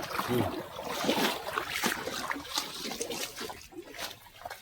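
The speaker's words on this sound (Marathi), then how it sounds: "काय गार पाणी आहे" Cold water splashing and trickling continuously nearby on farmland, with irregular gurgles and bursts of spray.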